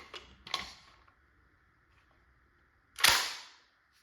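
A First Strike FSC less-lethal launcher is handled with a couple of mechanical clicks, then fires a steel ball once in a single sharp, snappy pneumatic pop that fades quickly.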